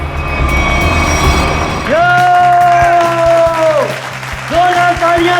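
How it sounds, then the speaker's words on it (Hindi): An audience applauds after a stage performance, the clapping mixed with loud sustained horn-like tones and a voice. "जोरदार तालियां दोस्तों"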